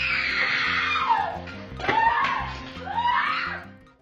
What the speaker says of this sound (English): its shocking entry scared the life out of the hairstylist, and she continued screaming